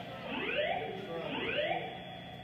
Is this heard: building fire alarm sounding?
yes